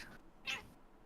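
A Siamese cat gives a single short meow, faint and somewhat distant over quiet background noise.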